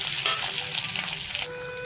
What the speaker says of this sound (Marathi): याला मस्त आपल्याला असं भाजून घ्यायचे तुपामध्येच